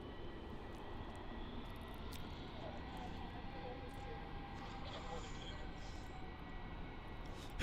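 A QantasLink airliner on a Melbourne to Mildura flight at Melbourne Airport gives off a steady, fairly faint engine roar and rumble throughout, with no speech.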